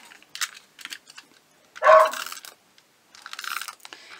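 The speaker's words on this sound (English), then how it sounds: "I apologize for the barking dog." A beagle gives a few loud, close barks, one prominent yelp standing out amid scattered lighter bursts of indoor noise, with no talking.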